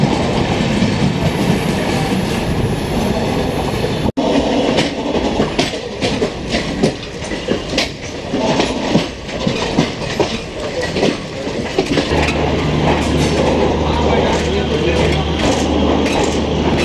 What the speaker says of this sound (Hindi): ये जा रही है चंडीगढ़ शताब्दी एक्सप्रेस।